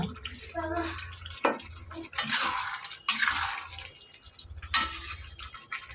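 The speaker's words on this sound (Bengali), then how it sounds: "এবার এর মধ্যে আমি ঝোলের জন্য জল দিয়ে দেবো।" Water pours in several short bursts into potato curry in a pan, splashing and gurgling close by, with someone speaking between the pours.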